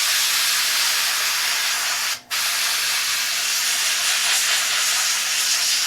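Airbrush spraying paint while painting a life-size Pumpkinhead figure, a loud, continuous airy hiss that cuts out for a brief moment and resumes, close up, with no voices.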